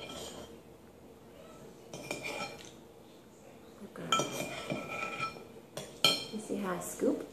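A metal spoon scoops food from a bowl as a child learns to use utensils, making scattered clinks and scrapes against dishware that grow busier and louder toward the end.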